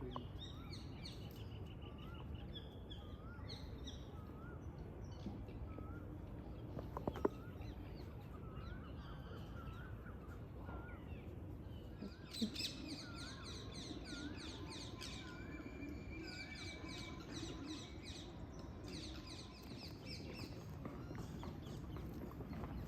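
Peacocks calling in the grounds of Falaknuma Palace, repeated high calls heard a little distant over a steady background of crowd murmur and ambient noise.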